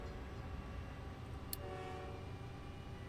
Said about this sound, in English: There's my slag train.